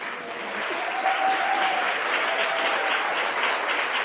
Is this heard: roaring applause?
yes